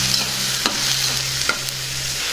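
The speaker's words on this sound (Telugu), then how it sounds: "అలాగే క్యాలీఫ్లవర్ కూడా ఇందులో వేసుకుందాం ఒకసారి బాగా కలుపుకుందాం" Stirring cauliflower florets into a curry frying in a pan, a steady hiss of sizzling oil with a few soft scraping strokes of the spoon, close and continuous, no voices.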